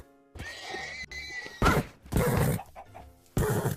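A video-game horse neighs in short loud bursts separated by brief gaps, heard up close and without speech.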